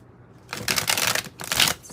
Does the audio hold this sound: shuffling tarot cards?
yes